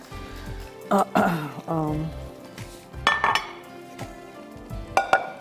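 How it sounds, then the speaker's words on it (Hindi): A cooking pot is lifted and handled in a home kitchen while Sindhi dal kadhi is being made, giving several close metallic clanks and clinks with a sliding scrape and short bumps in between. "मैं यहाँ से ये बर्तन ले लूँ ताकि मैं दाल को निकाल सकूँ"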